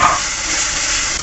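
Spice paste with chilli paste, Kashmiri chilli powder, turmeric and grated tomato frying in oil for a fish curry gives a loud, close, continuous sizzling hiss with no voices over it.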